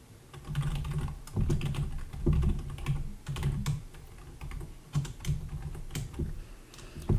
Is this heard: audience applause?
no